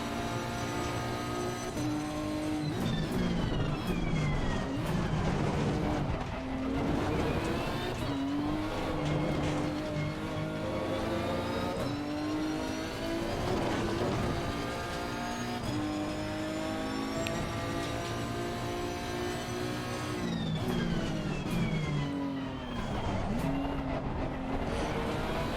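Nissan race car engine in the video game Assetto Corsa Competizione, a loud, steady engine howl that rises and falls through repeated gear shifts and revs, with occasional tire noise and no talk.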